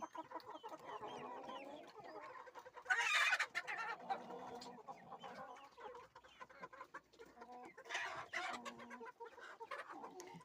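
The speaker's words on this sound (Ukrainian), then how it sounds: "Яка курочка хороша, чорна, вже молода, вже несеться, мабуть." Chickens in a coop at evening feeding cluck and murmur close by, with a few louder squawks and bursts of flapping breaking through the soft, continuous chatter.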